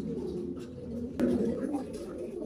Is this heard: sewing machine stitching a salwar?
no